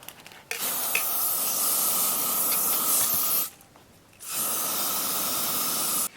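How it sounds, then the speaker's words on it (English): Two long hissing bursts of aerosol hairspray, close and steady, separated by a brief pause. "you can just spray another layer of hairspray to keep it intact"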